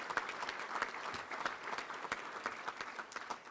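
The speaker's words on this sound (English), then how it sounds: "Our check-in ladies, let's give them a round of applause in the back" Scattered, faint applause rises from an audience at a Little Rock Touchdown Club luncheon, a quiet patter of hands heard from a distance with no one talking.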